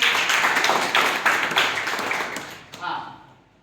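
Classroom audience of student teachers clapping at a B.Ed college in Vijayapur, a dense burst of many hands that fades toward the end, with a brief voice near the close.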